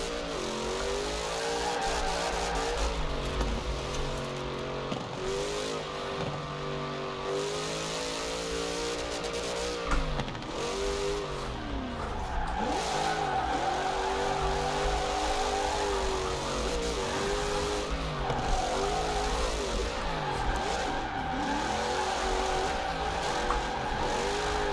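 A car engine in Forza Horizon 4 revs with falling and rising pitch sweeps as the RPMs drop, loud and close, carrying on throughout with no talk.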